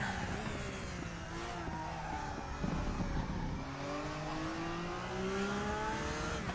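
A Porsche GT3 race car engine roars continuously in the RaceRoom racing game, its pitch rising and falling as the throttle lifts and reapplies, with faint tire noise underneath.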